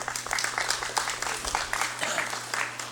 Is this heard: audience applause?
yes